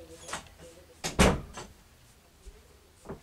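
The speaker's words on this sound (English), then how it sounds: "I'm going to shut my door." An indoor door is pushed shut, landing as one solid close-up thud with a few light knocks and rattles around it, and no voices.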